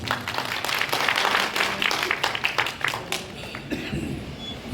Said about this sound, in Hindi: जोरदार ताली हो जानी चाहिए।